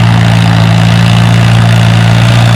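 A WD-45 tractor engine roars steadily and loudly at a tractor pull, a constant heavy drone with no breaks.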